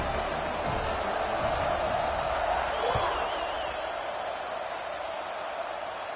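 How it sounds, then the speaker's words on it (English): Stadium crowd in a college football video game, a steady broad buzz of massed voices under commentary, holding level throughout without sharp cheers. "They're ready to kick it away, and this crowd is buzzing after that last score."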